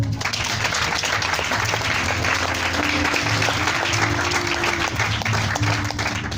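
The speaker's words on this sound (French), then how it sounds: "Est-ce qu'on peut acclamer le Seigneur?" A church congregation applauding to acclaim the Lord during a sermon, steady sustained clapping from a large crowd at moderate distance, with a faint voice and organ-like tones sitting underneath.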